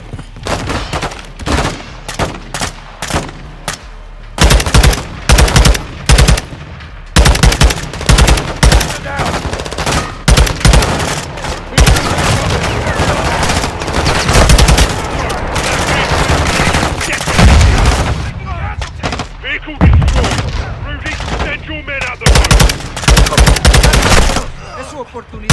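Heavy automatic gunfire in Modern Warfare 2 during a prison break mission, with loud bursts and single shots firing almost nonstop, sometimes overlapping, with short gaps and mixed battle noise.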